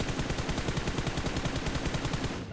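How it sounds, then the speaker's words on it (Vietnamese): Dense overlapping gunfire in PUBG Mobile, shots coming from many directions in a fast, steady rattle that stays loud and continuous before cutting off near the end. "Ui, nhiều hướng bắn đấy."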